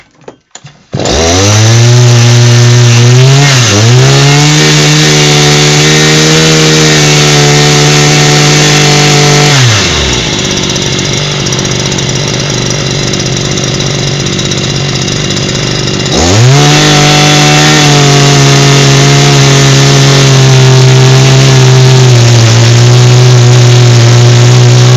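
Freshly repaired Chinese petrol brush cutter, its two-stroke engine starting and running loudly and steadily up close, dipping to a lower idle for several seconds before revving back up to a high, even whine.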